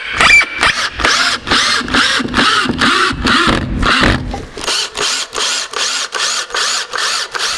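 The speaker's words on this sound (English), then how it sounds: "Now I'm using 4-inch screws. They're going directly into the stud behind it." A power driver drives 4-inch screws through a shelf into a wall stud. Repeated short whirring bursts come in a steady rhythm, close and loud, with no talking.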